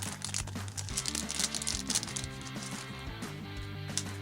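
Sticker packaging handled during an unboxing, with close, continuous crinkling and rustling over a steady background hum, no voice.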